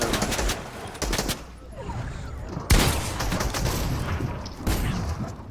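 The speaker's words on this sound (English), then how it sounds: "there's a solo that's shooting at you guys, so be careful" Bursts of gunfire in a battle royale video game, with pump shotgun use, come in several sharp loud volleys separated by short pauses, over a busy background of game noise.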